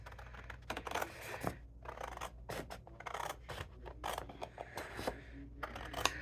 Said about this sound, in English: let me go ahead and cut this one out, and then I'll cut the other one